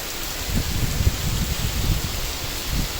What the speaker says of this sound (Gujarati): બહુ વરસાદ આવી રહ્યો છે.